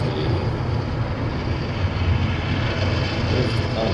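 Jet engines of a Condor airliner at LAX give a steady, loud broadband roar with a low rumble, continuous throughout and with no talking.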